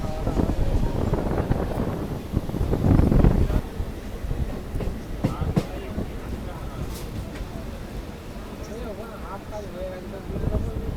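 A Barddhaman to Katwa local train pulling out of Kamnara station, a steady rumble and rattle of the carriages heard from on board, swelling briefly early on, with wind noise and someone talking over it.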